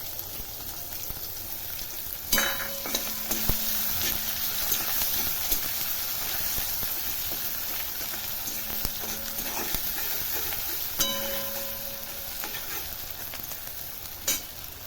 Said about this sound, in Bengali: এখানে পেঁয়াজটা দেখো আমি এইভাবে হালকা একটু ভেজে নিয়েছি, বেশি ভাজি নাই